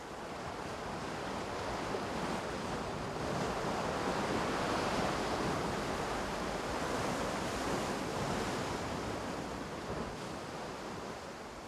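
Large ocean waves surge and break continuously around rusty abandoned ruins on the shore, a loud, steady roar of surf mixed with wind buffeting, with no voices present.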